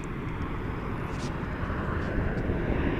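A Southwest airliner arriving from Kona, Hawaii at Dallas Love Field at night gives a constant low rumbling engine roar, moderately distant and steady, building slightly toward the end.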